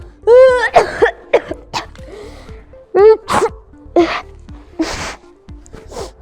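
Several loud coughs and sneezes in quick succession, close by, with short pauses between bursts and no talking.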